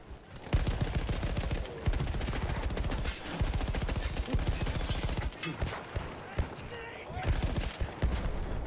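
Rapid automatic gunfire and bursts of shots crackle through a Battlefield 1 firefight, loud and nearly continuous with brief pauses, mixed with game sounds and players' voices talking.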